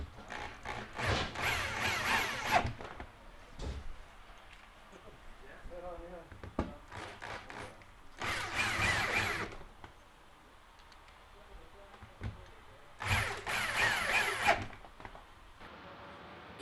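A power drill drives longer screws into steel while mounting E-track in an enclosed trailer, with three close, loud whirring bursts of a second or two each, separated by quieter pauses with faint voice and handling sounds.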